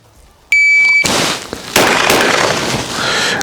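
At pistol shooting practice, a shot-timer beep sounds, then two loud, sharp pistol shots follow less than a second apart, each ringing out with echo.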